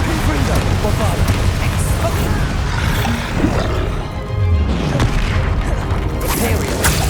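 Bombarda explosion spells in Hogwarts Legacy combat, heard as a dense, continuous barrage of loud booms and roaring blasts with no pause between them, with a voice present.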